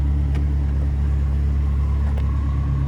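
A 2003 Ferrari 360 Spyder idles with a steady, loud low exhaust rumble throughout, marked by two brief sharp clicks and no talking.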